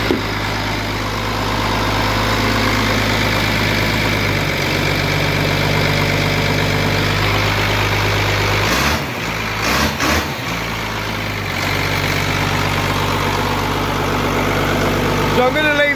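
An engine idles steadily under load from a charging alternator, a continuous low rumble held close and loud for the whole stretch, with a brief dip and a few knocks near the middle.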